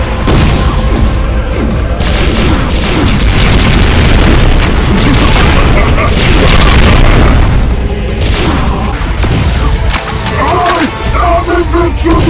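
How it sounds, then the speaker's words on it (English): Plasma cannon shots bouncing and exploding in a Doom mod, a dense, loud, continuous stream of booming blasts and bursts piling over each other with almost no pause. "The enraged wall bouncing and slight homing plasmatic cannon shots, which again only go through targets and can only deal damage on the final impact with the blast"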